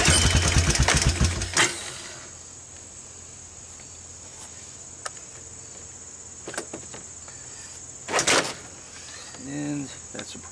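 A Honda Recon 250 ATV with high compression is started by its recoil starter: rhythmic cranking chuffs come first, then later sharp pulls of the cord, heard close in a quiet setting while someone talks.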